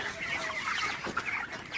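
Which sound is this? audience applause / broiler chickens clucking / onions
broiler chickens clucking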